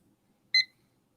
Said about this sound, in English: We're going to start our timer.